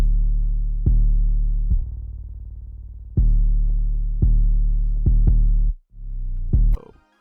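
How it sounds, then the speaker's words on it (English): Deep 808 bass notes programmed in FL Studio play alone, a series of long, booming sustained tones that restart at uneven intervals with a few quick stabs near the end, loud and close. "That's what the 808s by themselves sound like this."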